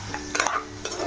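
Tempering frying in refined oil for raw mango pulihora, a soft sizzle with a few quick scraping stirs of a spoon in the pan, close and fairly quiet, with no one speaking.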